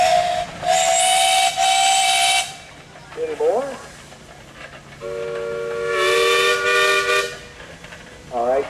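A Gaar Scott steam traction engine at a pioneer days steam show blows its loud, hissing whistle in several long blasts, with shorter toots and other whistles around it and a brief spoken question between them.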